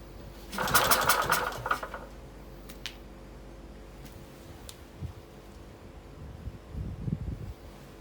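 A vintage WING stationary engine is spun over by hand as it tries to start without firing, giving a short, loud burst of mechanical whirring and clatter, then near-quiet with a few faint knocks and clicks.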